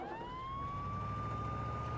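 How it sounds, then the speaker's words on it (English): Ambulance siren in the Family Guy video game on PS2, a steady rising wail with engine rumble underneath, heard alone and fairly faint. "Brian, call an ambulance."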